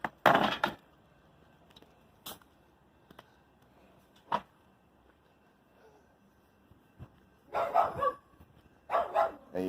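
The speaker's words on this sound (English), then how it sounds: "you hear neighbor's dogs barking" Neighborhood dogs bark in short scattered bursts, some distant and some nearer, against a quiet outdoor background with a few sharp knocks between barks.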